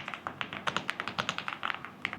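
Typing on an MCHOSE X75 mechanical keyboard: a close, steady run of soft, muted keystrokes in an uneven rhythm, with no voices.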